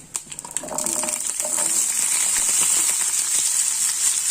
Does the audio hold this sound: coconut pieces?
yes